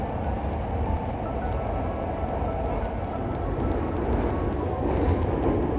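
Metro train in Tehran, giving a continuous low rumble and rattle of carriages on the rails that stays steady and fairly loud throughout.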